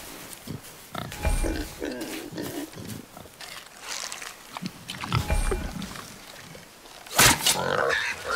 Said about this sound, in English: Wild boar's hide is thick.